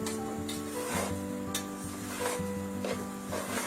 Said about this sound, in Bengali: আমি আবারও নেড়ে নিচ্ছি, লবণটি যেন ভালো করে মিশে যায়।